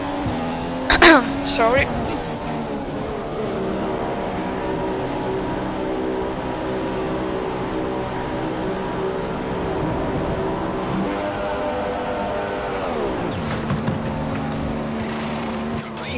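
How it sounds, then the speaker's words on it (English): Ferrari Formula One car in the F1 2015 racing game, pitting during the Malaysia race: a steady high engine drone with a brief burst of sharp pit-crew clatter early on, the engine pitch shifting near the end as the car pulls away. "So let's see how will the pit stop be on the Ferrari"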